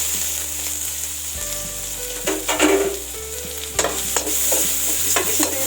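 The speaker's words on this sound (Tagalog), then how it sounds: "So, brown na po yung ating bawang. So, lagay na natin ang ating luya. Ang ating sibuyas." Ginger and onion hit hot oil with browned garlic for a fish head curry, giving a loud, steady sizzle with scraping stir strokes over background music.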